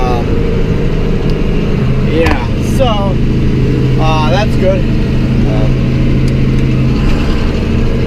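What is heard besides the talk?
John Deere 4840 tractor engine running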